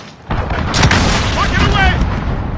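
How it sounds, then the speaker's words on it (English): A cruise missile blast in Call of Duty Modern Warfare 2019 multiplayer: a sudden loud, booming explosion that rolls on as a dense rumble, with game voices and effects over it. "Allied cruise missile launched."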